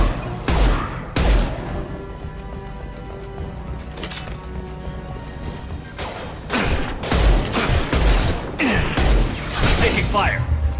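Gunfire, thuds and impacts sound out in a Mass Effect 2 combat scene. Loud, irregular bursts and scattered hits come under the game's character voices.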